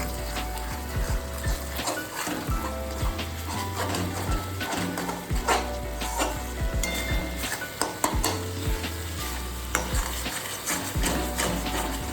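Turmeric and chili powder being stirred in hot oil for a green banana kofta dish, loud continuous sizzling and frying with repeated scraping stirs, close and busy.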